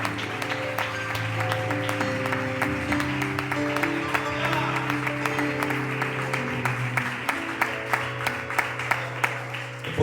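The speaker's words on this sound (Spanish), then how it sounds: "Da ese aplauso al Señor" Church congregation applauding together during a Spanish-language evangelical service, steady dense clapping lasting throughout, with sustained musical tones and a low hum underneath.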